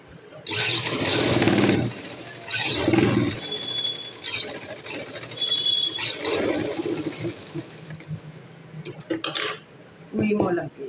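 Sewing machine stitching a salwar, bursts of rapid mechanical whirring and needle clatter in several runs separated by short pauses, close and loud, with a voice speaking between bursts.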